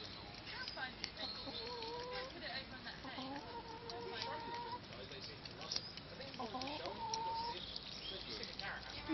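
A chicken clucks in a series of short, throaty calls that rise and fall over a steady farmyard background, fairly close and continuing throughout.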